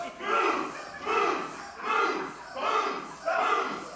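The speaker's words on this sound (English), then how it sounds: "Now this crowd's starting to get on Stephon Pennington's case." A pro wrestling crowd at a CZW Dojo Wars event chants at wrestler Stephon Pennington in a rhythmic, repeated jeer, five swelling pulses about a second apart.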